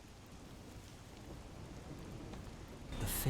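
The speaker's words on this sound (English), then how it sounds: "melts against the sound of rain." Steady rain from the video game Master Detective Archives: Rain Code, a soft continuous patter that slowly swells, with a brief brighter splash or chime at the end.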